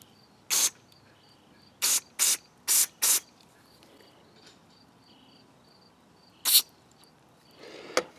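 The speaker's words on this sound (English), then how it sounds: "squirting carb cleaner into the seat like that is going to damage it" Carb cleaner sprayed into the carburetor seat of a Craftsman EZ Start mower: a single short squirt, then a quick run of four spray bursts, a later burst and a final one, close against a quiet background.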